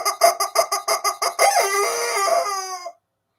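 A squeezed rubber chicken toy squawks in a rapid series of about ten short, loud honks, then lets out one long, drawn-out squeal that fades to silence.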